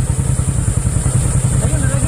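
A motorcycle engine runs steadily at a farm, its low rhythmic chug close and loud throughout with a constant high whine above it.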